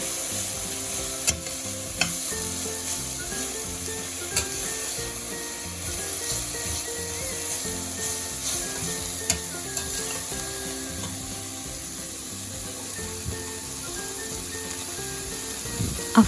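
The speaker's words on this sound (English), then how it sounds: "Continue stirring it." Cabbage stir-frying in a pan crackles with a constant close sizzle, and light spatula knocks and scrapes land every second or two throughout.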